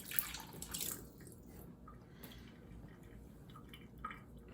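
Two tablespoons of water measured out at a kitchen tap for a cornstarch slurry, faint drips and trickles with a brief splash at the start, quiet and close.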